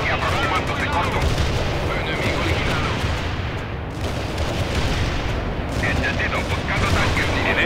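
Dense battle noise from the World in Conflict video game, with continuous gunfire, rumbling anti-tank blasts and explosions packed together, loud throughout, and radio-style voices speaking over the fighting.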